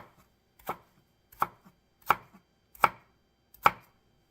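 A knife chops a red onion finely on a cutting board, making five or six crisp, evenly spaced strikes, close and clear with no talk.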